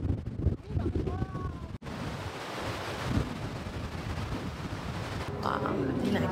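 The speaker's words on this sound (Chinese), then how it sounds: "风很大哦。" Strong wind on a coastal outing at Enoshima, Japan, buffets the microphone in a continuous heavy rumbling roar, briefly cut off near the start and then steady.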